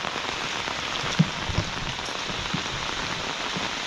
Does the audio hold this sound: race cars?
no